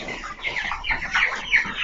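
Caged broiler chickens on a farm cluck and chatter together, a dense, close flock sound of overlapping short calls.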